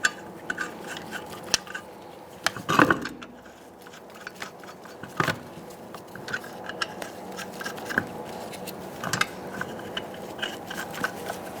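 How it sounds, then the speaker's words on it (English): Metallic clicks and light scrapes of lug nuts being threaded by hand onto the wheel studs of a 2012-2017 Hyundai Accent, intermittent close taps and rattles in a quiet garage. "Start our lug nuts by hand."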